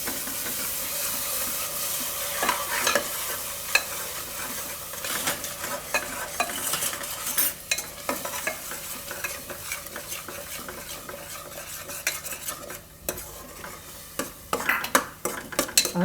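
Spices and yogurt stirred in hot oil in a pan on a low gas flame, for a Gujarati guvar and soya vadi curry: a steady sizzle and hiss under repeated scraping strokes, close and continuous, with no talking.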